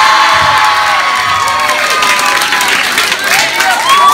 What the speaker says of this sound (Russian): Еще бурно аплодисменты Глебу!